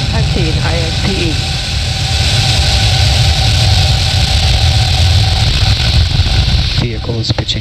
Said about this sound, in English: Ignition. Liftoff. Go Falcon.